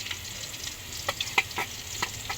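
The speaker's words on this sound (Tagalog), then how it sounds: "Nagigisa na din po si Jampol." Squid balls sauté for pancit canton guisado over a wood fire: a soft, even sizzle with scattered crackles and a few sharper pops from stirring.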